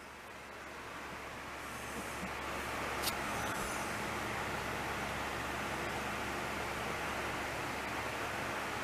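A drill spinning an abrasive wheel polishes a short-handled hammer head, making a steady loud grinding hiss that swells slightly and holds, with one brief sharp scrape near the middle and no talk.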